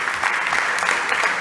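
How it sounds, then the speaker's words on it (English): Audience applause for the VIP judges at a startup pitch competition: dense, steady clapping from a crowd throughout, fairly close and even in loudness. "Please give our VIP judges a big round of applause"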